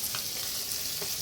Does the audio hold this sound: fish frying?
yes